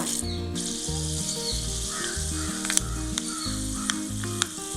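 Fenugreek seeds sizzle in hot coconut oil in a pan, a continuous bright hiss with light crackles under background music and no talk.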